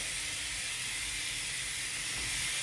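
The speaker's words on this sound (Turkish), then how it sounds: "Buğdayım kaynadı." Wheat boiling in a pot for aşure gives a constant bright hiss and bubbling, close and steady for the whole stretch with no talking over it.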